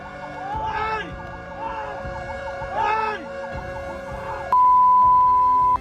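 A wailing fire truck siren in Western Visayas, Philippines, sweeps up and down repeatedly over traffic noise, then switches to a loud steady tone near the end.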